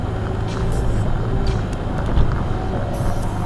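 Off-road car with a locked rear differential climbing a sandy hill, giving a steady low engine drone that fills the stretch with mild rumbling variation and no voices.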